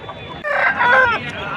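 A rooster crows loudly and close by at a rooster market, one drawn-out call rising and falling over about a second, with faint background murmur around it.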